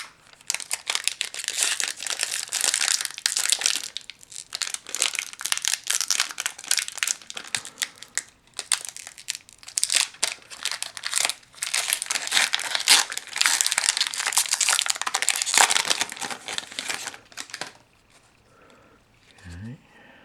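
Loud, close crinkling and crackling of the plastic wrapper on a Magic: The Gathering core set booster pack from a Theros Beyond Death Deck Builder's Toolkit, continuous for about seventeen seconds before it drops to near quiet.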